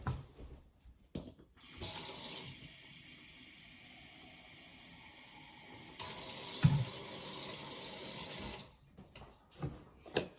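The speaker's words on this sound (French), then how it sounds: "Je vais mettre de l'eau." Water runs from a tap in a steady hiss for several seconds, briefly changing in strength midway before stopping, with faint household clatter around it.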